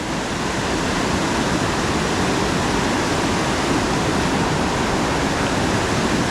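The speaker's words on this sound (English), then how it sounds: "Even in this rough water" Rough creek water rushes in a constant, loud, close roar that stays even from start to finish, with no other sounds standing out.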